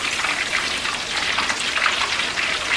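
Battered shrimp frying in hot oil, a dense, steady, rain-like hiss of bubbling that carries on evenly without pause and with no voices over it.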